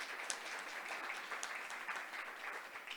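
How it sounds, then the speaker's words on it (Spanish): An audience at a cybersecurity panel discussion applauds the panelists, a steady, fairly dense patter of clapping from a room full of people with no one speaking. "Quisiera, por favor, que le regalaran un aplauso a nuestros panelistas por esta exposición tan buena."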